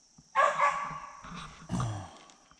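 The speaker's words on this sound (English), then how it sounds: "I had to go run off some dogs that were on the property." Several dogs on a rural property bark in a few loud, close bursts, with short gaps and a whimpering tail between them.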